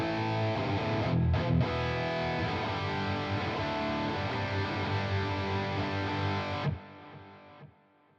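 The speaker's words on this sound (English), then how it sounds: "which is my favourite high gain setting from this pedal" An electric guitar plays at high gain through the X-modded channel of a Strymon Sunset drive pedal, giving a thick, saturated, distorted chordal wall that holds steady and loud for several seconds before cutting off and leaving a short fading tail.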